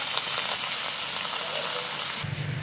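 Pork hits a hot pan of sautéed onions for pork kaldereta, giving a steady, close broadband sizzle that shifts in tone near the end as the meat settles into the oil.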